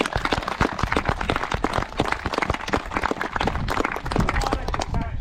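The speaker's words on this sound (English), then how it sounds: "Give him a huge round of applause." Outdoor audience at Tintern Abbey giving a hearty round of applause, dense, loud rapid clapping that carries on unbroken for several seconds.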